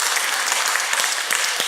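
A church congregation claps together in a sustained burst of applause during a worship service, the dense clatter of hands steady and full for the whole stretch with no talking.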